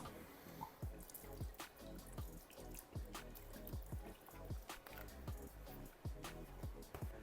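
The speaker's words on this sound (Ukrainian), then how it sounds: "вливаємо соєвий соус" Soy sauce trickles into a bowl of sauce mixture seasoned with smoked paprika, coriander and ground pepper, made for oven-roasted duck; quiet, close dripping and splashing in an irregular run of small drops.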